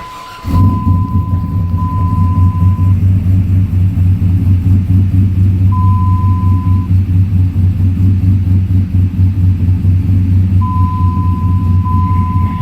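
A Dodge with a swapped-in LS V8 idles steadily, a loud, continuous low rumble with an even pulse that holds for the whole stretch, with faint periodic tones above it.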